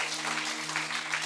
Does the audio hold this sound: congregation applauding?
yes